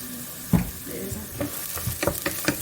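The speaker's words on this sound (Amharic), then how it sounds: "ጓደኞቼ ሽንኩርት እየተጠበሰልኝ ነው።" Onion fries in a pan for a rice and lentil dish, with a close, steady sizzle broken by scraping stirs and a heavier knock early on.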